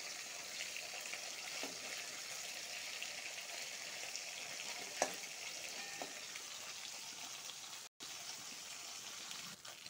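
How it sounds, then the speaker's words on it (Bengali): Fish fries lightly in a pan of oil, a steady soft sizzle running throughout with a few faint clicks of a utensil, and no talking. "হালকা ভেজে নিব, বেশি কারা ভাজলে মাছের টেস্টটা চলে যায়।"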